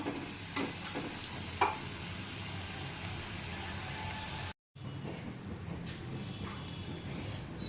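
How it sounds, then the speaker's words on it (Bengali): Gravy for doi katla, a Bengali yogurt fish curry, sautés in a pan with a continuous sizzle and scraping stirs, a short gap breaking it midway. "এটি আরও একবার ভালোভাবে কষিয়ে নেব।"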